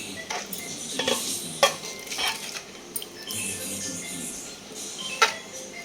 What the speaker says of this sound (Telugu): నిమ్మరసం వేసి బాగా కలుపుకోవాలండి